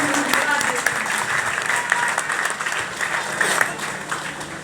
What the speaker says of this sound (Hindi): एक बार जोरदार तालियां बजाकर हम